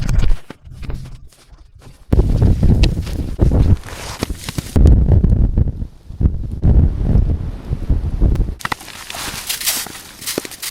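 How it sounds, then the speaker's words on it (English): Gusty wind from a snowstorm buffets the microphone in loud, uneven bursts, with rustling and crunching movement close by between the gusts. "Outside, the snowstorm showed no sign of stopping."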